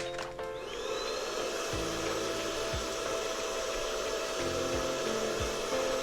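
A vacuum cleaner in the puzzle game Leila runs as a steady, even whirring drone, punctuated by a few soft low thumps, with no talk over it.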